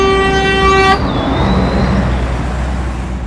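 Car horn blaring in a designated quiet nature area: one loud, sustained honk for about a second, followed by rumbling road and engine noise nearby.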